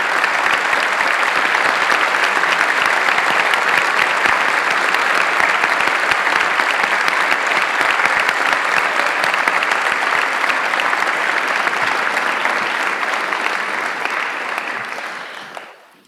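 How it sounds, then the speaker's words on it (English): Seniors at a Veritas Preparatory Academy 2024 high school commencement ceremony give a long, steady round of loud applause from a large crowd, sustained for about fifteen seconds before tapering off at the end. "please rise and offer a round of applause"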